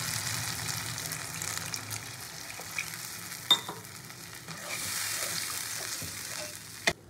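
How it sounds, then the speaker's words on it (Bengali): Water poured into sizzling fried spice paste for a Bengali fish curry and stirred, a steady soft frying hiss with occasional sharp scrapes of the spoon against the pan. "এবার পরিমাণ মতন জল দিয়ে দেবো।"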